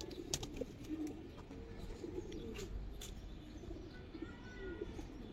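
Pigeons kept for sale, Giribaz and silver breeds, coo softly and repeatedly nearby amid faint chirps and ambient noise, with low background voices.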